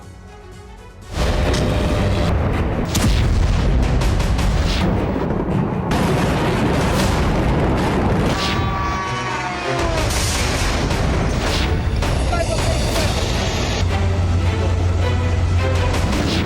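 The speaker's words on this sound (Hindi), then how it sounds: "मिसाइल सोची में ही गिर गई। जोरदार ब्लास्ट हुआ" A sudden loud missile blast erupts in Sochi, Russia after a brief quiet moment, followed by sustained roaring, rumbling noise with crackling and booming layers.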